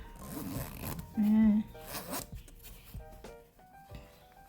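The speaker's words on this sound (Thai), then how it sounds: "ซิปลื่นค่ะ" A bag's zipper pull slides open in one short, smooth rasp, close up and clear, with someone talking before and after it.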